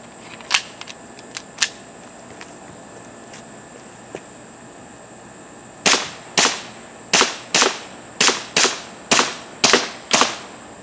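Umarex P08 Luger replica CO2 pistol firing ten copper-plated BBs at about 15 feet, a few scattered sharp cracks followed by a steady run of ten loud, evenly spaced pops, each with a hissing tail, no talking.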